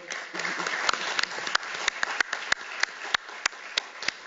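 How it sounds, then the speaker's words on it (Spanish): Audience applauding a panel on women and civil society in Cuba: a steady wash of clapping with distinct sharp claps standing out, fairly close and continuous with no speech over it. "Un aplauso para este excelente panel"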